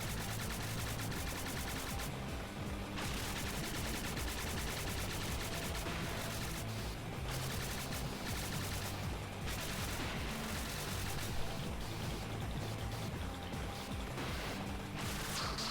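Explosions and blasting gunfire-like bursts in the Nintendo Switch platformer Spark the Electric Jester 3, a dense, continuous barrage of loud crashing impacts layered over game music for the whole stretch.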